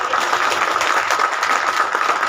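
An audience at a felicitation ceremony for Madhyamik and Higher Secondary achievers applauds in a dense, even wash of clapping that holds steady throughout, alone without speech.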